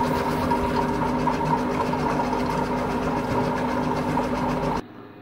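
A Compact Cook Elite kitchen cooker runs its cream program making raspberry curd, with a steady mechanical motor hum and rapid rhythmic whir, close and continuous, cutting off abruptly near the end.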